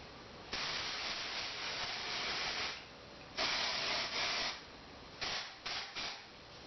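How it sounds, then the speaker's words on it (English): An aerosol hairspray can sprays onto hair during styling: several long, steady hissing bursts, followed by a cluster of shorter sprays, close to the listener and with no talking. "Okay, I'm gonna spray that."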